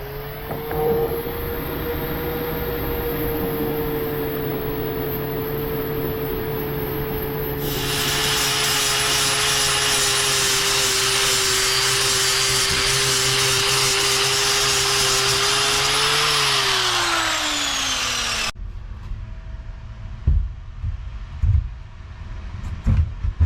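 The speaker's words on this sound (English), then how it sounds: "I'm going to slowly grind down this fiberglass on the edge" An electric grinder grinding down a fiberglass edge during a floor install in a Monterey, a loud steady whine that runs for about eighteen seconds, drops in pitch as it spins down, then scattered knocks and handling noise.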